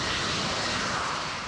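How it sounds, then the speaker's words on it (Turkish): Turkish fighter jets taking off produce a loud, steady, broadband engine roar that fills the air without a break. "hemen iki Türk savaş uçağı havalanıyor"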